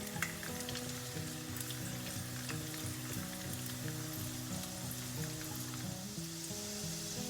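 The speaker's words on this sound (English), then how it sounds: "As you can see, the garlic is turning a nice golden brown." Garlic in ginger garlic paste fries in a pan for mango pickle, giving a steady close sizzle and crackle with no talk.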